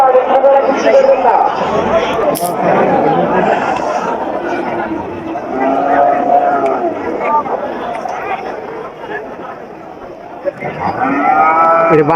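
Cattle lowing at a local rural cattle market in Companiganj upazila, Noakhali, Bangladesh, where buffalo are also sold ahead of Qurbani; several moos rise over a busy crowd and constant chatter of voices.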